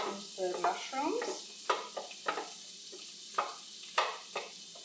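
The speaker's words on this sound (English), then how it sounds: "I start with frying the onions and the mushrooms." Onions and mushrooms fry in a pan with a soft, steady sizzle, broken by repeated scraping and stirring strokes, fairly quiet and close with no talking.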